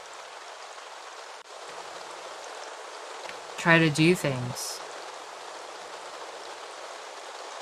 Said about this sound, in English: the rain sounds are making me sleepy also